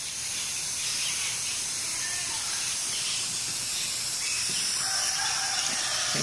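A spray paint can sprays a bird cage meant for a small finch, giving a continuous close, loud hiss that holds steady from start to finish.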